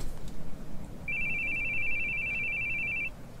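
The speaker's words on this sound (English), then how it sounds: "Your phone's ringing." A steady electronic phone ring tone sounds for about two seconds over a low background rumble, with no talking.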